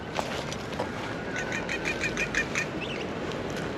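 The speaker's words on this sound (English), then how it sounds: "I don't know what kind of bird that was" Bird flying past near an outdoor dig site, giving a short series of quick chirping calls and faint rustles that stand out briefly over steady background noise.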